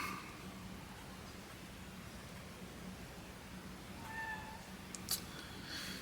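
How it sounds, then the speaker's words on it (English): Muffled, faint meowing comes from a cat shut behind a closed closet door, brief calls rising out of a steady hiss of room noise near the end. "I don't know if you can hear the cat calling behind me."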